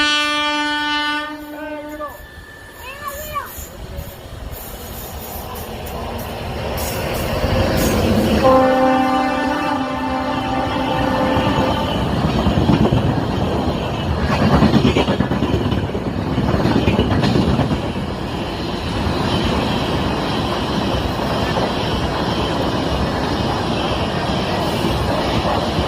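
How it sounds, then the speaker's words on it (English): Passenger train running through Devlali station in India, its horn blaring in a long sustained blast at the start and again a few seconds later, followed by the loud continuous roar and rattle of the coaches passing close by. "I think it's a passenger train."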